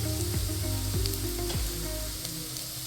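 Chicken masala and other ground spices stirred in a frying pan over a low flame for a milky mushroom roast, a steady close sizzle with three or four scraping spoon strokes, no voices.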